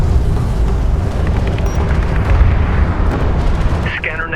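Airstrike explosions in the video game Deserts of Kharak: continuous heavy booming and rumbling blasts, loud and close, with a rising burst near the end.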